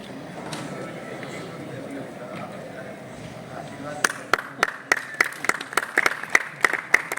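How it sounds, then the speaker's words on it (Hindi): Applause at the Sant Ishwar Samman 2025 award ceremony, starting as a murmur under a voice and then breaking into sharp, rhythmic, unison clapping that grows louder toward the end. "एक बार जोरदार तालियां"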